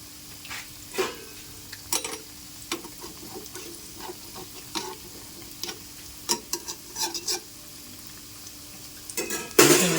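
Onion pakoda frying in oil on a gas stove over a medium flame: a soft, steady sizzle broken by scattered clinks and scrapes from a stirring utensil, ending in a louder burst of crackle.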